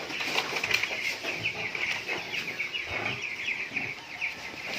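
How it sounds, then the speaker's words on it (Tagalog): Broiler chickens clucking and calling inside a coop, a dense, continuous flock chatter at moderate distance with occasional louder calls, steady throughout with no talking. "Ito yung ating mga alagang broiler"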